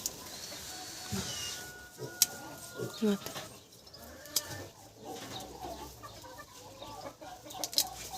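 Farm hens cluck and murmur in short scattered calls close by, with someone talking to them intermittently over a quiet outdoor background.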